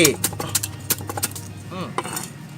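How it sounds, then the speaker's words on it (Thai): A knife taps and chops lemongrass in quick irregular strokes against a board, with metallic clinks of utensils and a brief voice in the background. "หั่นตะไคร้"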